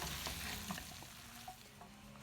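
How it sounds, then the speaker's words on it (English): Cauliflower sabji is stirred and fried in a pan, a soft steady sizzle with faint scraping and clinking of the spoon, quiet and close, with no talking. "So mix it very well"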